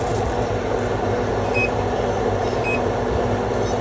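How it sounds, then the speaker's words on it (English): A kitchen oven being switched on gives a couple of short, faint electronic beeps over a steady, loud background hum. "I'll turn on my oven."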